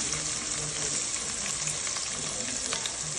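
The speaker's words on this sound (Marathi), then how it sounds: "तेल गरम झालेलं आहे, त्यात आधी लसूण, त्याच्यानंतर खडे मसाले, लाल झालं का थोडं कांदा टाकून घ्या" Garlic, whole spices and onion fry in hot oil for a chicken curry, giving a steady, dense sizzle throughout with faint stirring under it, close and continuous.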